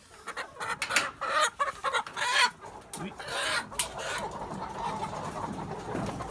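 Farmyard chickens cluck as they settle to roost for the night in early spring, a busy overlapping chorus of soft clucks and murmurs heard close by with no talking.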